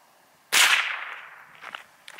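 A single .22 LR rifle shot fired with CCI Mini Mag ammunition in a paper penetration test: one sharp, loud crack that rings out and fades over about a second, followed by faint handling clicks.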